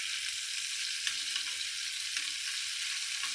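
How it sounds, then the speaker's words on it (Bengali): Prawns fry in hot oil in a pan, producing a steady, bright sizzle with faint stirring scrapes, continuous and fairly close with no voices over it. "দেখো চিংড়ি মাছটা একটুখানি ভেজে নেবো, বেশি ভাজবো না"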